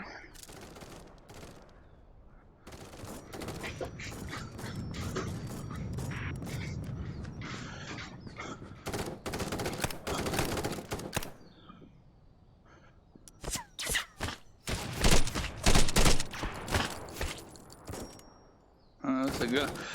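Gunfire in the VR shooter game Contractors: bursts and single shots crack through a 20-second stretch, with loud clustered volleys near the end, mixed with game effects and a player talking over parts of it.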